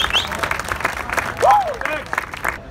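At an award ceremony for the Distinguished Gentleman's Ride 2019, a crowd claps in scattered, moderately loud applause while a voice talks over it.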